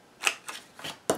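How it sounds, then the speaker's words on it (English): A 1 1/4 inch corner rounder punch trims the corners of paper for a photo mini album, four quick crisp snipping clicks in close succession, near and clear with nothing else heard. "trim the corners on the bottom of this with 1 1/4 inch"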